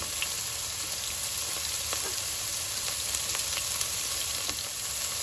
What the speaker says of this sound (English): You can hear that crackling of the oil